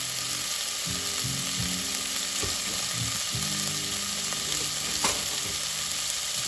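Beef bacon fries in a pan, a constant crackling sizzle broken by scattered clicks and clatters, with no voices.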